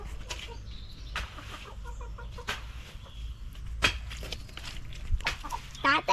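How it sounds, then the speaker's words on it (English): Hens cluck and call in a muddy backyard chicken run, with sporadic close clucks and scratching noises, and some faint voices nearby. "That's a chicken. And that's another chicken."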